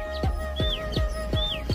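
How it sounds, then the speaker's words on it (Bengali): Birds, including an oriental magpie-robin, call from a tree beside a bridge under construction. Quick sweeping chirps repeat in a steady rhythm, fairly close and clear over a low background hum. "পাখির ডাকের শব্দ হয়তো আপনারা শুনতে পারতেছেন।"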